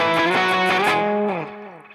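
Distorted electric guitar riff from a song, played with all downstrokes: a few chugging, accented chords in quick rhythm, then a held chord that rings out and fades, with no talking.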